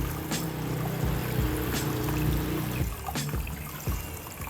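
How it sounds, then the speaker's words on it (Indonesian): Low-pressure water pours and trickles over an aftermarket KTM Duke air filter as it is rinsed layer by layer, a steady close splashing and dribbling sound with a few sharper drips and knocks. "Tinggal bilas saja per layer. Bilas depan belakangnya,"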